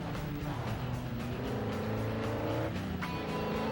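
A huge Ford Super Chief truck in a video game rumbles downhill. A continuous engine drone shifts pitch, with tire noise and clattering running underneath the whole stretch.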